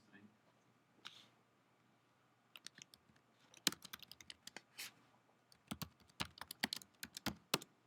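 Quick bursts of typing on a computer keyboard while code is written, sharp clicks coming in irregular clusters and runs, close and fairly quiet, with short pauses between the runs.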